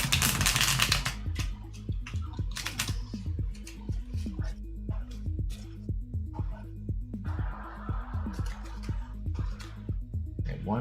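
Tarot cards being shuffled by hand, a close series of crisp rapid riffling clicks and taps in irregular bursts, with no talk.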